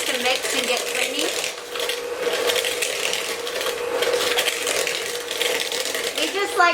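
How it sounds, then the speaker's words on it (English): A handheld electric mixer creams cake batter for an applesauce spice cake, a steady whirring, clattering mechanical drone running continuously at moderate loudness, with a voice talking faintly now and then over it. "I'm just using my regular handheld mixer. I'm just gonna get this nice and creamed up."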